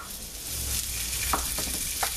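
Beef and garlic sizzle in hot oil in a stew pot, a steady close frying hiss broken by a few light stirring clicks.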